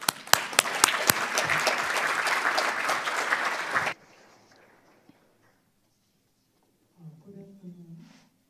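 An audience breaks into loud, dense applause to welcome a former governor at a speech, a few sharp claps standing out before it stops abruptly, leaving quiet and then a voice speaking.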